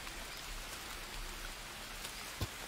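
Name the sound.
rain in the video game Green Hell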